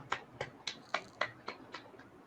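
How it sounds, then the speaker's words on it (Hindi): A small group claps for a student in a classroom, about eight quiet, sharp claps in an evenly spaced rhythm over two seconds, with no talk. "सूरज के लिए तालियां."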